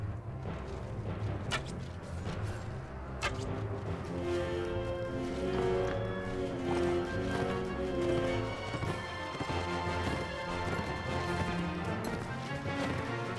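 Horse hooves galloping in the video game Mount & Blade: Warband, a quick drumming patter that stays under loud continuous music, with a few sharp crashing hits breaking through.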